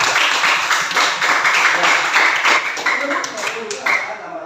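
A classroom of students claps their hands together in a brief, busy burst of applause that fades out at the end.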